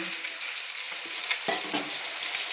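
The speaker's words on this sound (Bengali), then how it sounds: "মশলাটা আমার সুন্দর কষানো হচ্ছে" Spice paste sizzles and fries in a hot pan for a fish curry with kohlrabi, a steady crackling hiss with a few soft scraping stirs, close and fairly loud.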